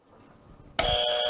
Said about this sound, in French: Je suis obligé de te buzzer.